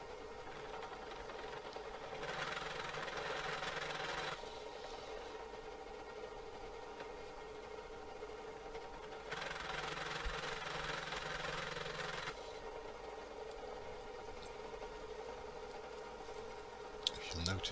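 A 60-degree chamfering tool cuts the edges of a drilled hole in two passes, each a brighter grinding whir of a couple of seconds over a steady low machine hum, with the workpiece chattering slightly.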